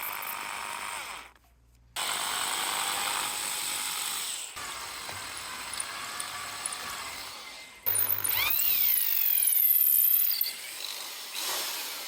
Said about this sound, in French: Alors je commence par percer un trou qui va guider la queue.